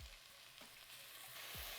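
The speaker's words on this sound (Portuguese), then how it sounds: "meu frango está aqui na panela ficando douradinho" Chicken browning in a pan gives a steady, close hiss and sizzle of frying, with a few soft stirring or shifting knocks, and no talk.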